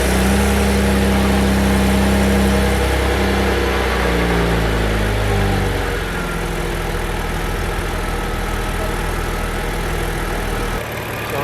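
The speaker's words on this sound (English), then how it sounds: "going to actually start the car, inspect the sensor once more as it's running" A car engine with a P0089 check engine fault starts and settles into a steady idle, a low continuous hum that runs close and even throughout.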